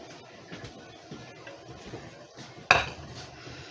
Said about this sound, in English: I'm going to bring the mixture to a boil, stirring until sugar is completely dissolved